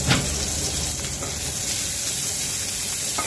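Chopped onions sizzle and spatter steadily in a hot wok (kadai) as the base for an egg and poppy-seed curry. The frying is close and continuous, with no voices.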